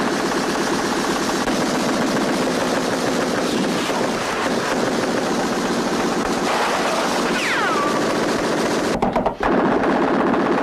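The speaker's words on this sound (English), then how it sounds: "Lasky, played by spaghetti western veteran William Berger, who has a fucking minigun" Minigun fire from a spaghetti western film rattles in a dense, continuous roar of rapid shots, loud and sustained for around nine seconds with a brief break near the end, layered with film sound effects.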